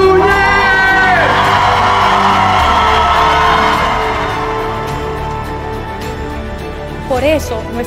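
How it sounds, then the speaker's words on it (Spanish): Audience at a live talk whooping and cheering loudly for a speaker, sustained crowd yells that gradually die down, followed by voices. "¡Un fuerte aplauso para Vilma"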